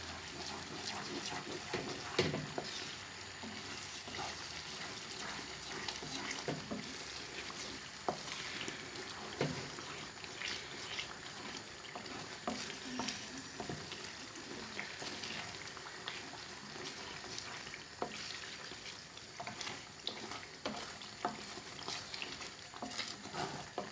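Fried Indian base gravy being stirred in a pan, a faint, continuous bubbling sizzle with scattered scraping and tapping from the spoon.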